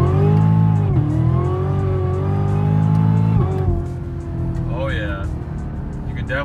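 A 2018 Cadillac CTS-V fitted with a cold air intake roars hard under acceleration, then its pitch drops as it downshifts. The engine note stays loud and close, with a short tire or drivetrain squeal near the end.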